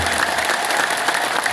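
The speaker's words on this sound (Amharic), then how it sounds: "እሺ በደንብ አጨብጭቡበት።" Audience clapping hands together steadily throughout, a dense, continuous roar of applause from a crowd at a live talk or gathering.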